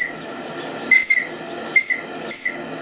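Whistle of a steam-powered model Chris-Craft boat built from a Navig Harco 40 kit, sounding three short, shrill blasts over a soft steady hiss from the steam engine.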